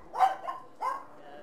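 Two short barks from dogs indoors, a quick yelp followed by a second bark, fairly faint and close, with no talk over them.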